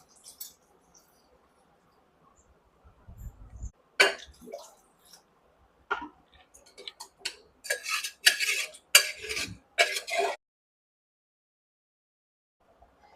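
A spoon scrapes and clinks against a pot of beetroot biryani rice in a few short bursts, with quiet stretches between the stirring strokes.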